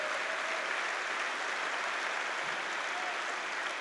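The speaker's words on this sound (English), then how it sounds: "Come on and clap your hands if you believe the word today." A church congregation clapping hands during a sermon, a steady wash of applause with no clear individual claps, sustained and even in level throughout.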